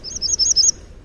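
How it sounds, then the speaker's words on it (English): A hermit warbler, a West Coast breeding songbird, delivers a short, bright, buzzy song of rapid high notes, close and clear against a quiet background, lasting under a second. "That's a bird called the hermit warbler."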